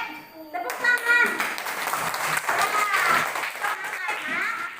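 Children in a classroom clapping their hands together on a teacher's cue; a burst of lively, uneven clapping follows a brief spoken line, with kids' voices mixed in.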